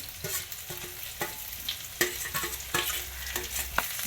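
Tomatoes and coriander stirred together in a frying pan, with a soft background sizzle broken by repeated spatula scrapes and taps, fairly quiet and close, with no talking.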